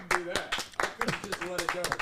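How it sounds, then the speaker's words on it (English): A small group in a podcast studio claps for a guest, a few quick hand claps over excited talking and laughter nearby. "Round of applause for P."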